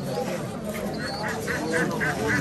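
Ducks quack in a quick repeated series at a busy village poultry market in Sherpur's char area, the calls fairly close and sounding over the market's crowd murmur.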